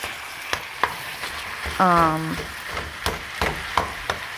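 Steak marinated in Dale's seasoning fries in a pan, a soft steady sizzle broken by sharp clacks of a utensil against the pan and a brief squeaky scrape.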